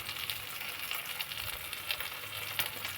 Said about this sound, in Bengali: তো হালকা করে আমরা মশলাগুলো ভেজে নেব